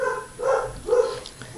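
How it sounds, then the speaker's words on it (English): Two or three sharp dog barks ring out in quick succession at moderate distance, with short pauses between them and no talking. "Sorry for my dogs,"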